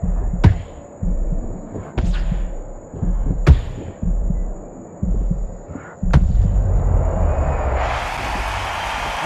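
Heavy punches thud in an Undisputed boxing match, several sharp isolated impacts over a low pulsing crowd hum, ending in a swell of loud crowd roar after the knockdown blow lands on Patterson.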